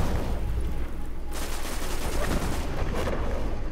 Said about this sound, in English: You're still using the auto rifle